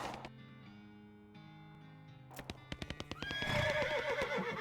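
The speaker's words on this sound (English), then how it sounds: "Alright then, Darkness the horse" A horse in the video game West of Loathing gives a loud neigh over a run of hoof clip-clops, with game music tones playing underneath; there is no speech.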